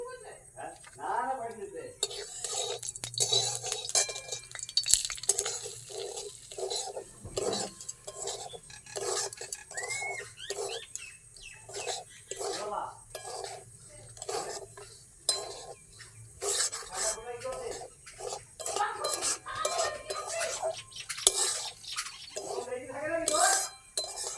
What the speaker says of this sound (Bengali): সুজিটা ঘিয়ে ভেজে নেব।